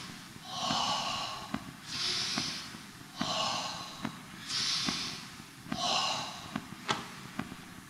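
Deep, forceful breaths follow karate exercise, with about six long hissing inhale and exhale cycles in a steady rhythm, close and fairly loud, and soft clicks between them.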